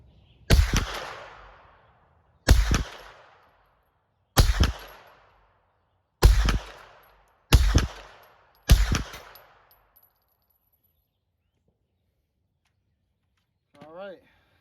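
Six sharp gunshots from a suppressed Ruger PC Charger pistol, fired at an uneven pace over about nine seconds, each loud, close and followed by a short decay, with a brief faint sound near the end.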